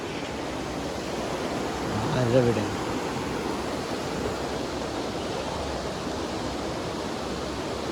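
A forest waterfall in Nelliyampathy, Palakkad, cascades over rocks as a steady, dense roar that fills the whole clip, with a brief faint voice near the middle.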